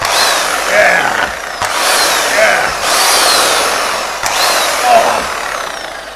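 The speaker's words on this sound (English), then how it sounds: "This is one of these impact wrenches that you can use for removing tyres, wheels from cars and things like that." An electric impact wrench used for removing car wheels runs in several whirring bursts, loud and close, with short breaks and tool-handling knocks between them.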